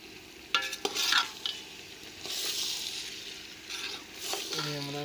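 Garlic and ginger sizzling in a pot over a village cooking fire in Punjab, a steady crackling fry with bursts of stirring scrapes, close and moderately loud.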